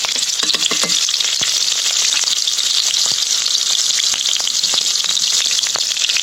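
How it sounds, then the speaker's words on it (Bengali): Onion, garlic, cumin and chili pastes fry in hot oil in a pan, giving a loud, steady close-up sizzle with a few faint scraping stirs through it. "পেঁয়াজ এবং রসুন বাটা দিয়ে দিলাম দিয়ে দিলাম জিরে এবং ঝাল বাটা"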